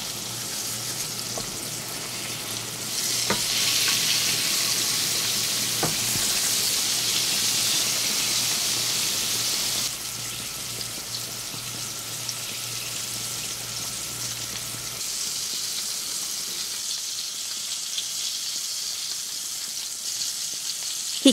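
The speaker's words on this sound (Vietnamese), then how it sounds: "khi mặt dưới đã chín vàng thì mình canh để lật lại chiên tiếp phần trên nha" Continuous sizzling and bubbling of eggplant frying in oil, close and fairly loud, with a couple of faint clicks and the hiss easing slightly later on.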